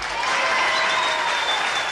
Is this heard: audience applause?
yes